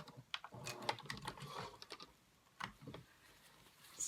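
Sewing machine back stitching a fabric project bag, heard as quiet, irregular bursts of mechanical clatter with short pauses between runs, close by and alone.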